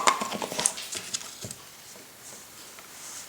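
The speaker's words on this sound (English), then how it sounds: "there's weird dog stuff going on behind me" Dog noises come from behind someone doing a daytime smoky makeup look: faint, scattered patters and a brief whimper-like sound in the background, low and intermittent, with no talking.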